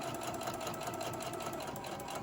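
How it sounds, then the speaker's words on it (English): A home sewing machine stitches up the side seam of a fabric candy cane ornament with a narrow quarter-inch allowance, giving a steady, continuous mechanical whir throughout with no talking. "And I'm sewing up the side."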